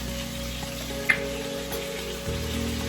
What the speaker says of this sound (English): we're going to baste that ribeye, just like that, for a medium rare.